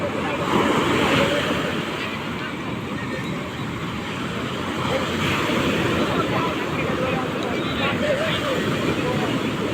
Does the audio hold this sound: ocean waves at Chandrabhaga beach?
yes